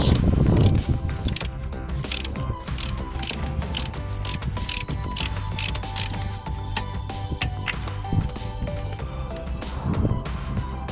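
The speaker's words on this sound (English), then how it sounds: "tighten up the axle nut" A ratchet tightens the axle nut on a Toyota Corolla during a transmission swap, with rapid close clicking strokes repeating steadily and a metallic mechanical rattle throughout.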